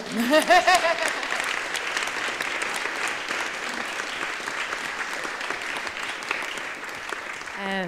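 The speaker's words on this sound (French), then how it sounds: "Ah, vous pouvez applaudir, oui." An audience at a climate-themed talk breaks into applause, opening with a brief voice over the start before a broad, steady crowd clapping takes over and carries on for several seconds, with a voice returning at the end.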